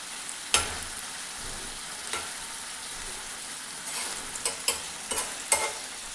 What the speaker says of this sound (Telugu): నీట్గా ఇలాగా టర్న్ చేసుకుంటే మనకి బ్యాక్ సైడ్ కూడా ఫ్రై చేసుకుందాం